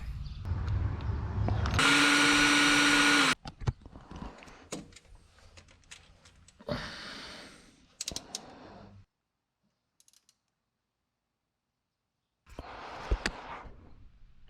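A power drill drilling into a snapped bolt whines in a loud burst, then grinds in shorter bursts with pauses and near-silence between them.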